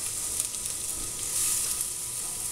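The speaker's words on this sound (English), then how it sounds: "So Pop, once you get that butter and olive oil going, go ahead and throw in your some onion" Chopped onion sizzles in a pan of melted butter and olive oil, a steady close crackling hiss with no talk over it.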